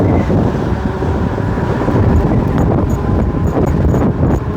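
Strong wind roars and buffets steadily against the microphone on a fast-moving dual-motor electric bike, a dense low rumble that continues without a break.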